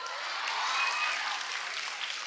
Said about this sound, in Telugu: క్లాప్స్ కొడుతున్నారు ఇప్పుడు